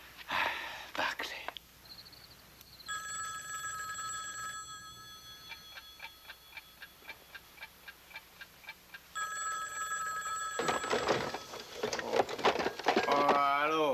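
A telephone rings late at night in a quiet house, a repeated electronic ring pulsing in a steady rhythm for several seconds, framed by soft whispery voices before and louder speech after.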